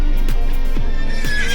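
A very tall horse, the record-holding giant kept on a small farm in Toronto, Ontario, gives a loud close whinny, repeated with a descending shake, over a steady low background.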